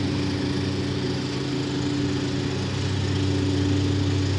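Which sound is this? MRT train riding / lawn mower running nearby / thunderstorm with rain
lawn mower running nearby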